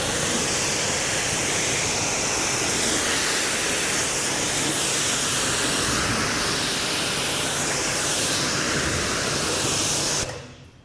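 A high flow pressure washer, the Active 3.0, rinses snow foam off with a loud, steady hissing spray that holds for about ten seconds and then cuts off abruptly.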